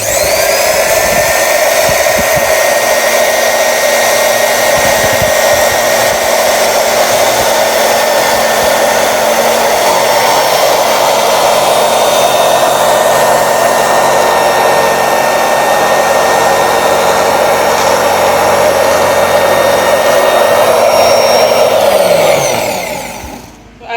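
A Two Lion electric round-blade fabric cutting machine runs steadily for over twenty seconds, a loud close high-pitched whine with a strong motor hum, constant throughout before spinning down abruptly at the end; no talking.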